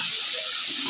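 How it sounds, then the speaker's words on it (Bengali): Chopped tomatoes hitting a hot pan of fried spices, a loud steady sizzle and hiss close up, brief and continuous. "এবার এর মধ্যে দিয়ে দেবো কেটে রাখা টমেটো কুচি"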